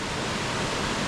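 Waterfall on the Mrzli potok stream in Posočje, a dense, continuous roar of cascading water heard up close, steady and loud throughout with no voices.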